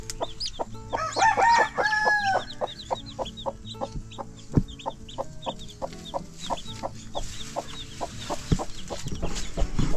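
A hen with three chicks on a farm clucks while steady rapid peeping repeats throughout. There are fuller bird calls near the start, and the scene sits in moderate outdoor ambience.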